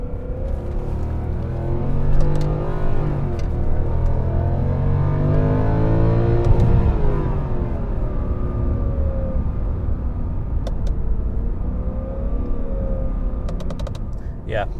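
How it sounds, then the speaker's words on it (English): A 2010 Mercedes S63 AMG engine revs hard and climbs in pitch before settling, with a smooth sustained roar heard from inside the cabin and several shifting tones and light clicks. "you can bounce off that rev limiter, which is cool"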